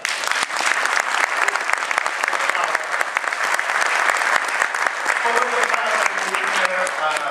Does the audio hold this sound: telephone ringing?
no